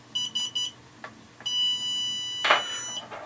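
A BetaFPV LiteRadio 2 SE radio transmitter gives a short triple bleep, then a longer sustained high electronic tone, with light clicks and a brief rustle close by.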